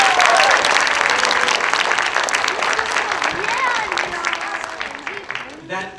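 Applause for teachers at a school assembly, a dense, loud burst of clapping from a large audience that carries on steadily and fades toward the end, with a voice briefly audible early on.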